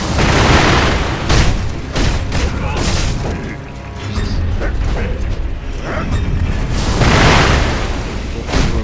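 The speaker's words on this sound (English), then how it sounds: "Firecrackers are a bit more useful than the shuriken in terms of all-round combat." Firecrackers from the prosthetic tool in Sekiro burst loudly in a dense run of sharp pops and bangs, mixed with clanking combat sounds and mechanical clatter throughout.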